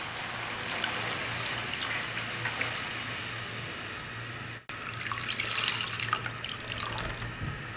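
About 2.5 litres of milk pours steadily into a pot of grated carrots and rice for gajrela kheer, making a continuous close liquid rush that briefly cuts off and then resumes with bubbly splashing.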